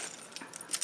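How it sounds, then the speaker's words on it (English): Car keys on a keychain jangle and clink in a short, close burst of metallic rattling, with a couple of brighter chimes near the end. "my car keys"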